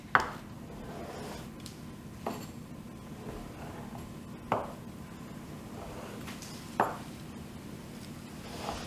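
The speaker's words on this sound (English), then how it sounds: "So next I'm going to cut this into 8 slices." A knife cuts rolled dough into eight slices for German beer crescent rolls, and four soft, distinct cutting taps come at spaced intervals over a low steady room hum.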